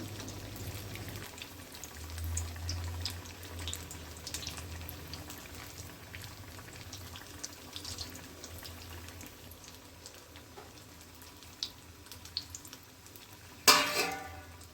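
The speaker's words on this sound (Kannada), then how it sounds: "ಸ್ವಲ್ಪ ತಿರುಗಾಡಿಸಿ ಬೇಯಿಸ್ಬೇಕು ನೋಡ್ರಿ ಯಾಕಂದ್ರೆ ಆಲೂಗಡ್ಡೆ ಇರ್ತಾವೆ ಒಡಿಬಾರ್ದು" Potatoes being stirred and cooked in a pan for vada pav, a soft low sizzle with light scraping and occasional clinks of a utensil, and a sharper metallic clatter near the end.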